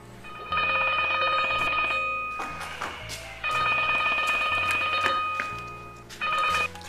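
A telephone ringtone plays loudly in repeated melodic electronic phrases with a bass line, pausing briefly between bursts.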